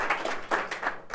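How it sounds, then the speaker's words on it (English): Listeners at a digital humanities talk give a short burst of applause, with a few distinct, fairly close claps rather than a full crowd roar. "So big round of applause."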